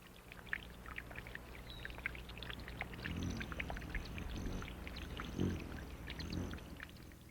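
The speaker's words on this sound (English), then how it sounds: "The rippling brook." A rippling brook gurgles and bubbles with scattered watery plinks and trickles, fuller in the middle, heard alone at moderate volume.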